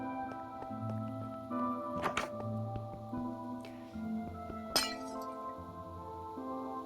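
Minecraft glass window shattering, with two sharp clinking breaks over a steady game music bed, the second one louder.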